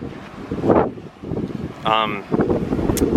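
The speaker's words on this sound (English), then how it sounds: "It's a little bit windy right now" Gusty wind buffets the microphone in bursts of low rumbling noise while walking through an all-inclusive resort in Cancun, Mexico, with a person talking and a brief tonal sound partway through.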